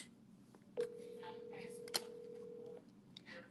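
Ringback tone of an outgoing telephone call, a single steady ring lasting about two seconds, clear and fairly loud, with quiet voices and room noise around it.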